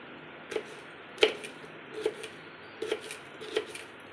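Snake gourd being finely chopped with a knife on a board, a handful of crisp, separate chops spaced out at an uneven pace, close and fairly quiet.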